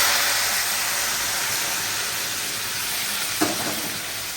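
Vegetables sizzle and fry steadily in a hot pan, a dense, even hiss throughout with one brief knock or stir partway, no voices.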